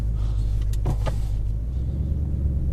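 A 2018 Ford Mustang GT drives slowly around a dealership yard, its engine a steady low rumble heard from inside the cabin, with a few faint clicks and knocks partway through.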